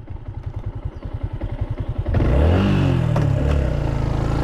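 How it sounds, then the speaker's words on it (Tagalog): A motorcycle engine throbs in a quick regular pulse on a rough road, then a louder passing roar of engines sweeps in close and heavy, rumbling and clattering. "May mga motor naman oh"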